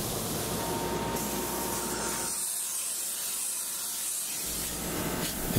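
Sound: high-pressure spray applying polyurea lining to concrete

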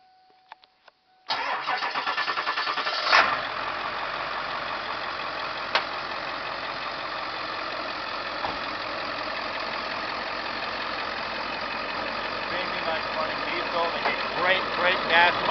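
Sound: 2004 Ford E-350 van engine starting and running

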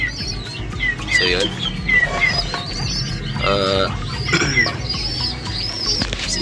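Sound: young pigeons in a loft

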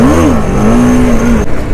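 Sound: Kawasaki Z900 motorcycle with full exhaust system revving during a wheelie

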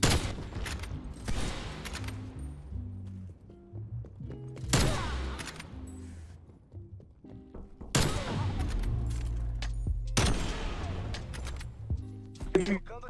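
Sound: gunfire in Call of Duty video game

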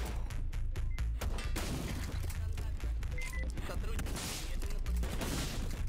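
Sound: gunfire from a video game (VLADiK BRUTAL)

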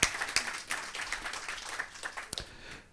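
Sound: applause

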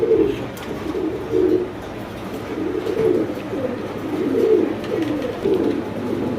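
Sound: fancy pigeons cooing

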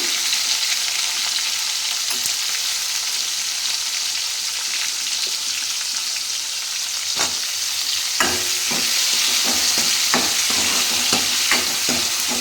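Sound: tomatoes and tamarind frying and being stirred in a pan

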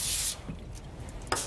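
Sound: nonstick cooking spray on a sheet tray

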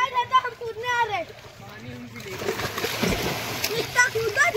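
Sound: kids jumping and splashing into water tank pool

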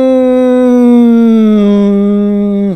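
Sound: voice imitating a car passing by

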